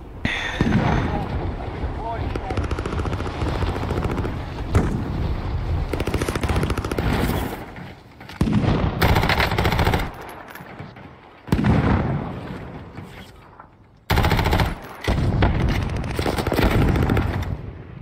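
Dense gunfire and explosive blasts from a first-person shooter, with AK rifle bursts and sniper shots, roaring almost continuously with a few brief drops in intensity and a voice talking now and then underneath.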